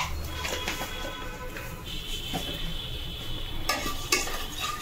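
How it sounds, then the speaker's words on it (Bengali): Black cumin seeds sizzle softly in hot oil left from frying fish, a steady crackle with light stirring and a few utensil clinks, close by and alone. "তো এই তেলের মধ্যে আমি দেব 1 চামচ কালো জিরে।"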